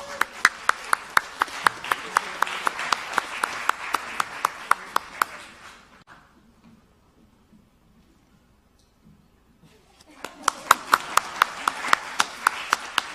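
Applause rings out at the Trinidad and Tobago Film Festival 2017 awards ceremony for an award winner. It comes as two bursts of crisp, fairly sparse clapping with distinct individual claps, separated by a few seconds of near silence.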